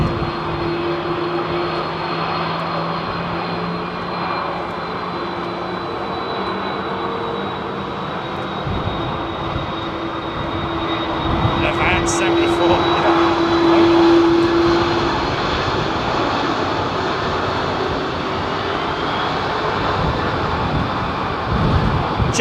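An airliner powered by GE CF6 jet engines departs Heathrow, a loud sustained roar with a whining engine tone that swells slightly midway and continues steadily throughout, no voices present.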